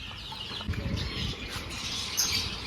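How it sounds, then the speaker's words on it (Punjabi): Small colourful birds flutter in a steady, close flurry of wingbeats and soft rustling at Sood Farm in Bassi Kikran village, Hoshiarpur, with a busier burst of flapping partway through. "ਚਿੜੀਆਂ ਛੋਟੀਆਂ ਛੋਟੀਆਂ ਜੀ ਰੰਗ ਬਰੰਗੀਆਂ ਚਿੜੀਆਂ"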